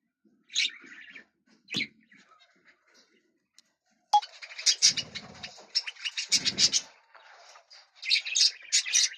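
Small caged birds chirp and tweet in short bursts, a few isolated calls first, then a busier chattering flock close by.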